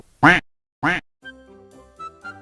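Two loud, raspy duck quacks ring out in quick succession, followed by softer, thin tonal chirps.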